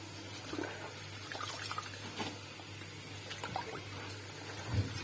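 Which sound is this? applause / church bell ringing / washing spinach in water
washing spinach in water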